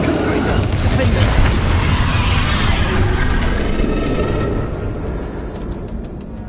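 A Confringo fire spell explosion in Hogwarts Legacy bursts as a loud, sustained boom with a roaring rumble that gradually fades, mixed with voices talking.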